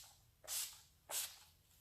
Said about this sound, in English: I'm going to go in with my setting spray and put a level of setting spray on this